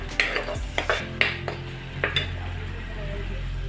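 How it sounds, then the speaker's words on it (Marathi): Spinach puree frying in oil with turmeric for an aloo palak dish: a low sizzle under repeated clinks and scrapes of a spoon stirring against the pan, in irregular close taps. "पालक प्युरी आपली तेलामध्ये फ्राय झालेली आहे 1 ते 2 मिनिटांमध्ये."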